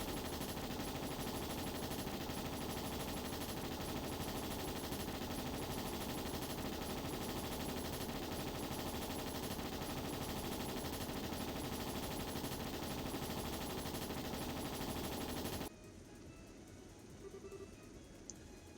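Rapid gunfire rattles almost nonstop while enemies are shot in a video game, a dense loud barrage that suddenly cuts off near the end, leaving faint background sound.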